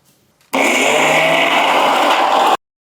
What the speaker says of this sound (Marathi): थोडंसं पाणी आणि मिक्सरला फिरवून घेऊया.